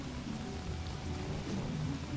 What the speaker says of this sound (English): It's raining frogs!